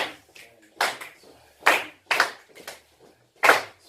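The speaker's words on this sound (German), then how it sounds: "Aber klatschen immer weiter." Hands clap a steady rhythm during a group warm-up exercise in a university class, loud sharp claps coming singly and in pairs with brief pauses, close by and without talk over them.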